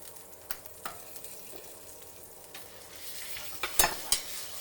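Homemade breakfast sausage fries in a cast iron skillet with a continuous close sizzle, broken by a few scraping stirs and sharper spatter pops near the end, and no one speaking.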